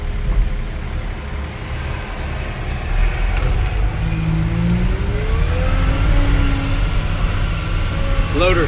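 A 2014 Volvo L90G wheel loader with a quick coupler runs close by, its engine holding a loud, steady low rumble while rising whirring tones swell and fall over it.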